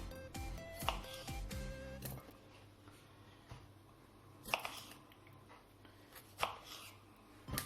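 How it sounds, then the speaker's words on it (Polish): A kitchen knife cuts tomatoes into quarters on a board, a quick cluster of crisp chopping taps at the start, then a few isolated cuts and thuds further apart, close and fairly quiet. "ja będę je kroić na cztery części"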